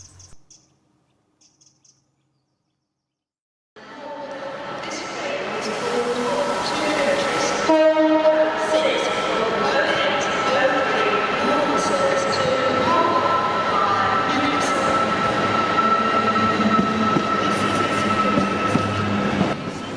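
A passenger train bound for Carlisle rumbles steadily along the rails after a near-silent start, loud and close with a constant interior roar and occasional tonal squeals or horn-like notes.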